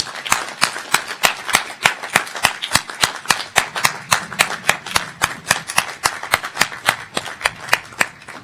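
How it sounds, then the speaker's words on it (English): Audience applause at a college commencement ceremony, honoring graduates' families and friends. Steady, rhythmic clapping continues for over eight seconds at an even, brisk pace, close and fairly loud. "let's give them and those who are watching online a round of applause"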